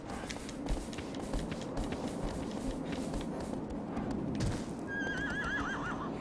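In the video game Shadow of the Colossus, a horse gallops with fast, rhythmic hoofbeats, then a loud, wavering whinny rises near the end, with no voices over it.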